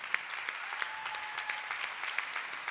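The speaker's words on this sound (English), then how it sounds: "can we just give a round of applause and honor for those who serve" A church congregation applauds to honor those who serve, a steady even wash of clapping with individual sharp claps standing out, sustained throughout at moderate level.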